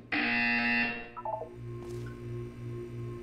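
A loud harsh buzzer in the video game Portal 2 blares for about a second, followed by a few short descending beeps and a low electronic hum.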